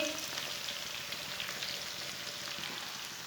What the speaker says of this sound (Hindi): नींबू और गाजरों को 2 मिनट के लिए मैंने फ्राई कर लिया है।